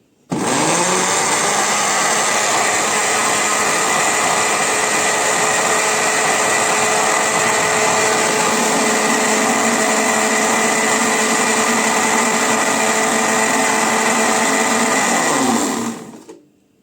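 An electric kitchen blender whirs through a homemade mixture of flour and oil, a loud, steady high-pitched whine that runs unbroken for about sixteen seconds before cutting off abruptly.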